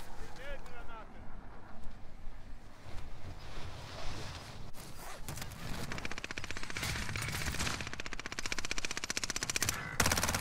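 Rapid automatic gunfire in Call of Duty on Rebirth Island, sustained bursts growing denser toward the end, mixed with game ambience.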